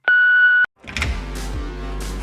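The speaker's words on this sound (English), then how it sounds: "leave your message after the beep" A single clean electronic beep of an answering machine sounds for about half a second, then cuts off, followed by a soft rustling swell of background noise.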